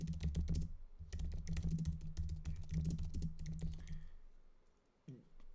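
Rapid, close clicking of keys on a computer keyboard continues for about four seconds and then stops, with a low steady hum underneath.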